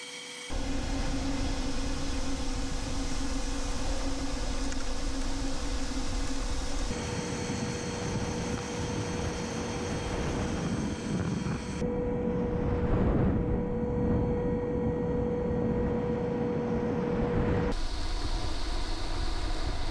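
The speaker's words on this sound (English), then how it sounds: "So we're going to suck up this pile of sawdust." A central vacuum hose pulls a pile of sawdust, about a five-gallon pail's worth, through a homemade cyclone dust collector, giving a loud, steady roar that holds for the whole stretch with shifts in tone as the debris is drawn in.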